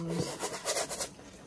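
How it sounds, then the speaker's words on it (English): Cleaner is rubbed into the fabric fibers of a 90s toy, a close, quiet scrubbing with several short rhythmic strokes of brushing friction. "just sort of rubbing that into the fiber will help keep any of the dirt from setting in there"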